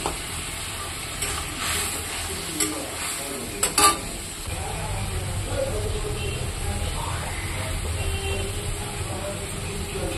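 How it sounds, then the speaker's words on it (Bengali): A ground paste of black cumin, garlic and dried chilli with turmeric sizzles in the oil left from frying pabda fish. There is a steady hiss with a few sharp clinks of a spoon near the start, then continuous crackling frying. "এই মাছের তেলের মধ্যে এখন এই মশলাটা ছেড়ে দেবো"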